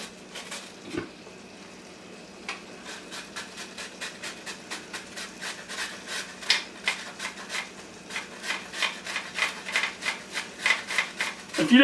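A carrot is shredded on a grater for chicken stir fry, making rhythmic rasping strokes that grow louder and more regular over time, close to the microphone.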